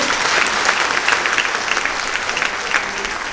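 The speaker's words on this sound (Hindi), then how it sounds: "तो जोरदार तालियों से हम जिंदल जी के," Loud, dense applause from a large crowd at a free cataract surgery camp in Vrindavan, continuous and steady throughout with no pauses.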